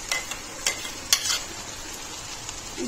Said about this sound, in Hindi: मसाले को भी हम अपने प्याज के साथ भून लेंगे।